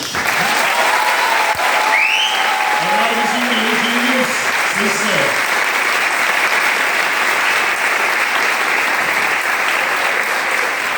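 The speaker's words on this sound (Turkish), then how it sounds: "sahnedeki küçük hanımefendiler ve beyefendilere tekrar bir alkış" A theatre audience at a stage performance of Annie gives sustained, loud applause for the children on stage, a steady roar of many hands with a few voices rising briefly within it.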